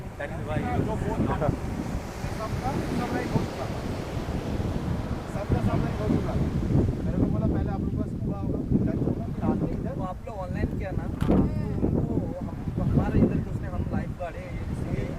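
Wind and sea waves at a Goa beach make a steady, loud broadband rush throughout, with a person talking continuously over it.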